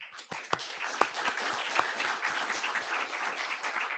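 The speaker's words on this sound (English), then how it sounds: "Let's have a round of applause for Sophia." Audience at an IETF research group meeting applauding a speaker, a full steady burst of many hands clapping throughout, fairly close and sustained.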